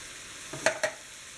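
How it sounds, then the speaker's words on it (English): Canned corn being added to browned ground beef in a pan for tamale pie, a soft sizzle with two quick scraping clatters close by, then the quiet frying continues. "So now I'm going to add in the canned corn"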